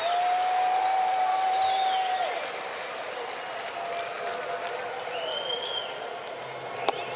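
A sellout crowd at a Padres versus Braves baseball game roars and cheers in a steady, dense wash of noise, with a whistle and shouts rising above it and a broadcaster talking over the top.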